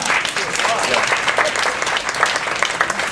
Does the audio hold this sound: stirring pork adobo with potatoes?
no